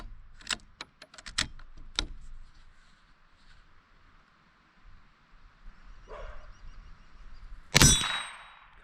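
Several sharp metallic clangs of bullets striking a steel shooting target at a range high in the mountains, spaced irregularly, followed by a louder ringing hit near the end.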